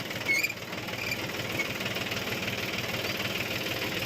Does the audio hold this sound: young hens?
no